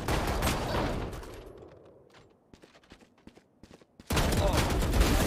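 Rapid bursts of gunfire in the video game Valorant come loud at the start, give way to quieter scattered shots and footsteps, then return as a dense, loud volley near the end.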